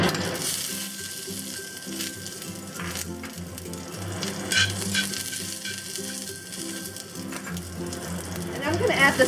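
Minced garlic hits oil in a wok preheated over medium-high heat to the smoking point, for a Taiwanese spinach stir-fry, giving a loud, steady sizzle and crackle that continues for the whole stretch with no talking.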